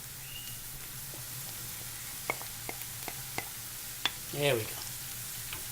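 Smoked salmon sizzles in a pan with softened onions and garlic, a steady close frying hiss broken by sharp pops and stirring scrapes, and a voice speaks briefly near the end.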